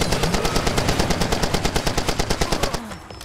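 Automatic gunfire in the video game Far Cry 2 rattles off as a long, loud, evenly spaced burst of about twenty shots, then cuts out abruptly.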